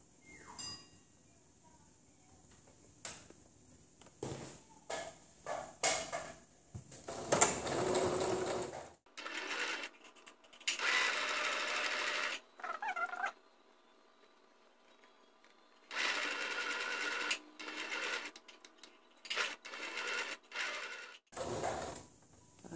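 A sewing machine stitches fabric with elastic for a face mask with a headband, running in short bursts and then longer steady stretches, close and fairly quiet, with small clinks between runs.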